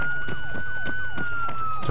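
Police car siren in a video game, a loud repeating electronic wail with fast falling sweeps about every third of a second over a steady tone, continuous throughout with no talk.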